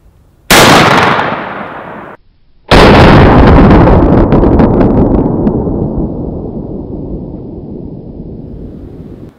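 Beretta A400 Xtreme shotgun firing 3 inch Remington Hypersonic shells: two very loud, close blasts about two seconds apart, the second followed by a long rumbling echo that slowly fades.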